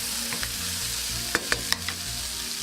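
A spoon stirring flour into a brown sauce for beef stroganoff in a sizzling pan, a soft steady fry under a few sharp clicks of utensil against the pan, close with no talk.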